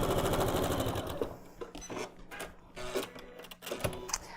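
An electric sewing machine stitches a long seam down a big quilt block, a steady rapid mechanical whir at first that slows into separate needle clicks and pauses near the end, close and clear.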